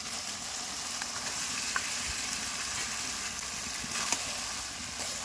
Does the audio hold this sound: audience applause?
no